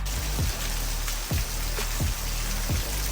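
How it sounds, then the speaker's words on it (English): Heavy rain pours steadily as a constant dense hiss, with several low rumbling thumps recurring across the background. "The rain got serious real fast."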